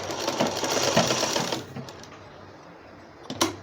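A sewing machine stitches cloth for a newborn's baby cap in a fast, even mechanical whir of close needle clatter for about a second and a half, then stops, leaving quiet handling and a small click.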